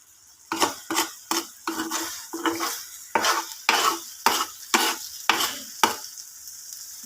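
Stirring corned beef (CDO Karne Norte) in a pan for breakfast, about a dozen rhythmic scraping strokes of a utensil against the metal over a soft sizzle, close and loud, no talk.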